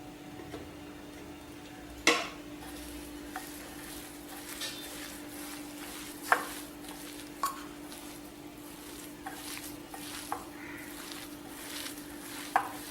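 A spoon works chilli powder and masala into a thick paste in a pan. Soft, squishy stirring is punctuated by sharp, irregular clinks of metal against the vessel, close and unhurried, without speech.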